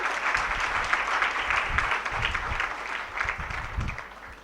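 An audience at a religious discourse claps together in a sustained burst of applause, dense and fairly loud throughout, with a faint voice underneath.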